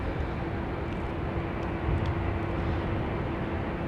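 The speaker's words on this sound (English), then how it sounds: "just departing as well, we've got the New Zealand 110, which is an A321 Neo" An Air New Zealand Airbus A321neo departs Sydney Airport, heard as a steady, broad low engine roar at a distance with a faint hum running underneath.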